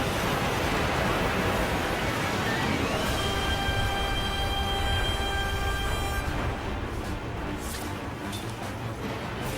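A train rolls past in the video game Lost Odyssey, a loud continuous rumbling roar with a sustained squealing whine in the middle that fades out near the end.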